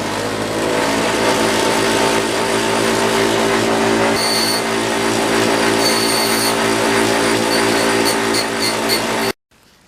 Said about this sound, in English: is to go onto a grinding wheel and cut that with a grinding wheel